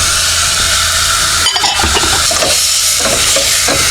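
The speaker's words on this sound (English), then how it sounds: "And we'll brown the sausage and ground beef first" Sausage and ground beef sizzle loudly in a warm pan, a steady frying hiss broken by a spatula stirring and scraping against the metal, close up with no voices.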